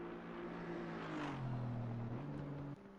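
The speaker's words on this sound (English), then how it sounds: "I do love the sound of an Aston Martin." An Aston Martin racing car engine drones with a smooth tonal note that dips and rises through gear changes, heard from inside or close by, then cuts off sharply near the end; no talking.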